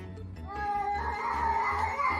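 A cat caterwauls in a long, wavering, drawn-out yowl that swells and holds, fairly close against a low background hum, with no clear talk.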